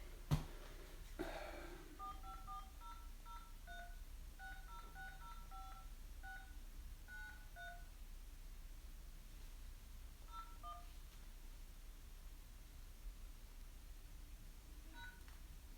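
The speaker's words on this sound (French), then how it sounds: "veuillez composer les chiffres de votre carte de débit suivi du carré" Touch-tone keypad dialing into an automated phone menu, a series of short DTMF beeps in irregular clusters, quiet against faint background hiss, with a brief handling knock at the start.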